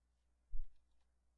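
One soft, close computer mouse click on a dialog button, brief and isolated against near silence.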